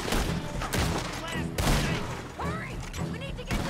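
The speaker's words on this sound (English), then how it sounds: "I'm not moving until I shoot them." Rapid bursts of gunfire from a Red Dead Redemption 2 shootout, loud and repeated across the moment, mixed with game effects and a voice speaking over the action.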